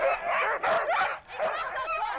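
Sled dogs of a training team, keen to run, bark and yip in a busy overlapping chorus with brief pauses, loud and close throughout.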